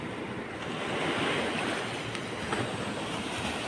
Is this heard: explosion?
no